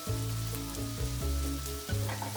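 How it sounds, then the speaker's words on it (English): Pork and chopped spring onions stir-frying in a hot wok for pork in yellow bean sauce, a loud steady sizzle with low rumbling tonal hum and soft scraping shifts as the food is moved, no talking. "I then add a few chopped up spring onions"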